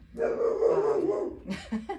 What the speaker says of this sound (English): Sorry if my dog barks in the background.